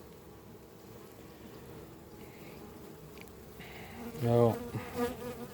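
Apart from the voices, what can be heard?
honeybees buzzing around opened hive colonies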